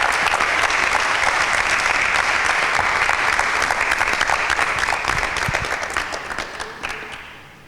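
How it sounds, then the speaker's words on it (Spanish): An audience at a Bible quiz show breaks into loud, sustained applause after a correct answer, dense clapping that holds steady and then tapers off toward the end. "Respuesta correcta. Fuertes aplausos."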